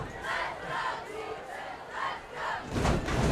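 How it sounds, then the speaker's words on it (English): A home crowd at a high school varsity football game roars and cheers loudly and steadily, swelling in bursts with no talk over it. "The Bolsa crowd here making some noise, trying to employ their defense to get a stop here."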